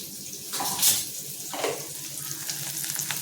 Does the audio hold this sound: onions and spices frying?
yes